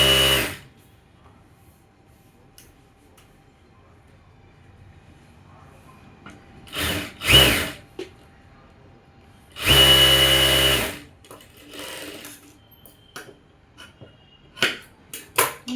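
A sewing machine stitches a blouse in short, loud bursts of rapid whirring, separated by quiet pauses and a few small clicks and taps of handling fabric.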